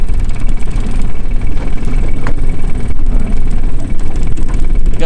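A small 9.9 horsepower kicker outboard motor drones steadily while trolling a fishing boat on a lake, a loud, continuous low rumble with slight wavering and no talking.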